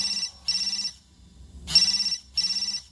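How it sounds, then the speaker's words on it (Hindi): A telephone rings in four short trilling bursts with brief pauses between them, clear and fairly close. "थोड़ी ही देर के बाद बर्नाडेट का फोन बजा"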